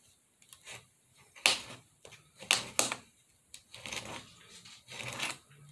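Sharp blades cutting through a 2-inch by 2-inch craft board, giving a string of crisp snips and clacks in irregular bursts, fairly quiet and close.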